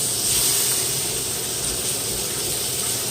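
Liver sizzles in a frying pan, a steady close broadband hiss that holds evenly and unbroken with no talking.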